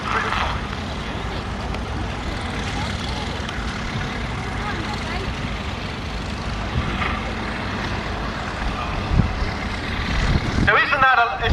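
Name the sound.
British military tractor engine running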